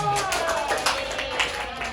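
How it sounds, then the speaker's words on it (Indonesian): A classroom of students applauds a classmate's answer, a brief burst of scattered hand claps heard at moderate loudness with voices talking underneath. "Boleh beri tepuk tangan dulu Atu"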